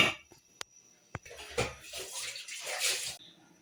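Water is poured into a pot of black chickpea curry, a splashing, sloshing pour after a couple of sharp clinks of utensils against the pot, fairly close and with no talk.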